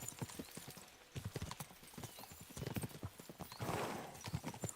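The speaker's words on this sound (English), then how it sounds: "We should spur the horses on!" Horses galloping in the medieval video game Kingdom Come 2, rapid rhythmic hoofbeats close up, with a brief whinny and a rising rush of movement partway through.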